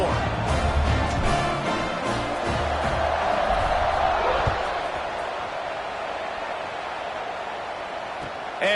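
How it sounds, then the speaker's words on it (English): A football stadium crowd buzzes after a score, a dense roar of voices and cheers that fades slightly over several seconds, with a commentator talking over it. "this crowd is buzzing after that last score"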